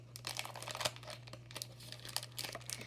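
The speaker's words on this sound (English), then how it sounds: "I'm going to cut open the packet." A plastic packet of air dry clay being cut open, with close crinkling and tearing rustles in irregular bursts over a steady low electrical hum.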